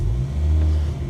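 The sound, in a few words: Ford Focus RS MK2 engine starting with Milltek exhaust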